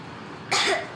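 A young girl in the video game Metro Exodus coughs, a short burst of a couple of close, raspy coughs after a quiet moment, with a second cough starting at the very end.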